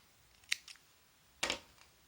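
Scissors snip through wrapped yarn strands for a Peter Rabbit carrot craft, two quiet, crisp cuts about a second apart in an otherwise still room.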